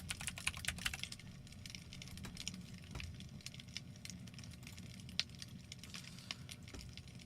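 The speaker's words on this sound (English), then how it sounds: "I'm going to type the word serious" Quiet, rapid typing on a computer keyboard: a dense run of light clicks and key taps, busier at the start and then continuing irregularly with no talking.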